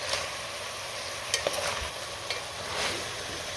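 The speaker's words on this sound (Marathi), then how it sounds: "मटण सुरुवातीला आपण असं तीन ते चार मिनटं हाय फ्लेमवरती चांगलं परतून घेतलं" Mutton sautés in a pot over a high flame, giving a steady, dense sizzle with occasional stirring scrapes and clinks throughout.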